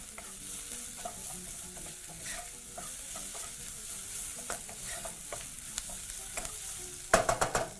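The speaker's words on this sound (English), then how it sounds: "And now you can proceed to add your chole masala and your paprika powder. Proceed to mix through." Chole masala and paprika powder being stirred through in a hot pan, with a steady scraping and sizzling that runs throughout, growing into louder, sharper clatter near the end.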